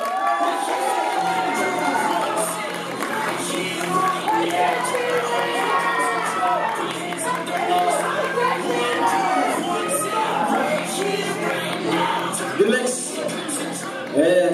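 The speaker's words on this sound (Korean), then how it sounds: "박수 시작." A crowd at a bodybuilding contest, the 2016 Mister Gyeonggi Grand Prix final, cheers and shouts continuously, a dense loud roar of voices with clapping mixed in, steady throughout.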